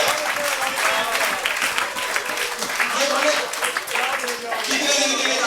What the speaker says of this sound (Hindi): तालियां थोड़ी बजाइए